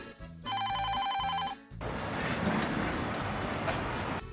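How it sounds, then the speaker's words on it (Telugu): A ringtone-like electronic melody plays in a repeating pattern for about a second, then cuts to a loud, steady noisy rumble. "ఏంట్రా మీను ఫోన్ ఎత్తట్లేదు?"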